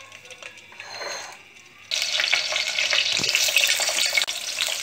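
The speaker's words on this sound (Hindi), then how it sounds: "पहले ऑयल डालेंगे, कैप्सिकम डाल लेंगे, शिमला मिर्ची, थोड़ा इसकी स्मेल आने देंगे ऑयल में" Capsicum drops into hot oil in a pan and a loud, steady sizzle suddenly bursts out, following a quieter stretch of soft kitchen noise.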